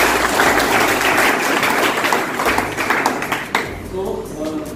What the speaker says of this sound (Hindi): तो एक बार अपने लिए ताली बजाएं।